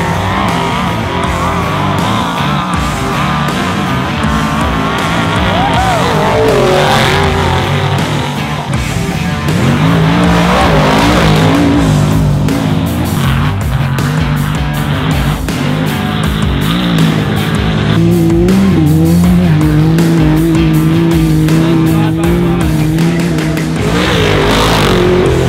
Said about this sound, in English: You hear that first, and then you hear that trophy truck.